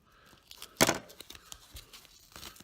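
Stitches being pulled and torn out of a fabric flap, a sharp ripping burst near the start followed by softer scattered tugs and crinkles, close and quiet, without speech.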